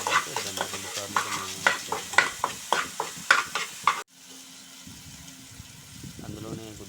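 Boiled egg noodles frying in oil in a pan, with a run of about a dozen sharp, regular stirring scrapes over sizzling, then an abrupt drop to a quieter sizzle as a voice speaks.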